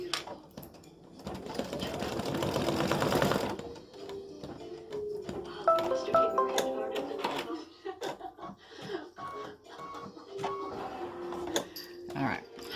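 A home embroidery machine stitches out a mug rug with a fast, steady mechanical whirring and needle clatter that pauses and restarts between short runs, heard up close under occasional quiet talk.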